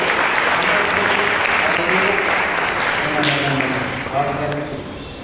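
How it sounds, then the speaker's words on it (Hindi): A church congregation gives the pastor loud, sustained applause, close and full, with a voice speaking over the clapping as it begins to fade toward the end. "आइए जोरदार तालियां पास्टर"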